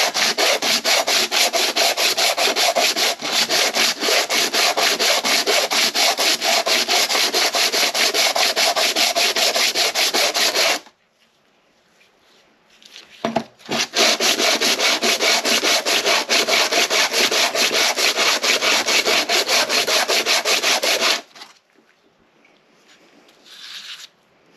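A hydraulic roller lifter part rubbed by hand on an abrasive sheet gives a steady, close, scratchy back-and-forth sanding for about eleven seconds, then a pause, then another long burst before it stops.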